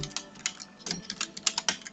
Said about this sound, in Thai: เสียงคีย์บอร์ดอาจจะดังนิดนึงแล้วก็อย่าเพิ่งรำคาญกันเนาะ